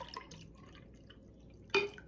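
Water is poured into a glass holding apple cider, a brief splashing gush near the end after a quiet stretch of faint clinks and small liquid sounds close by.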